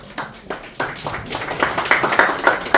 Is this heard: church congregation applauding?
yes